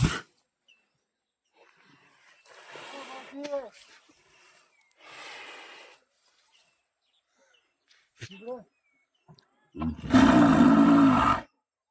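A Khillar bull bellows several times, deep drawn-out roaring calls separated by pauses, the last one loud and close.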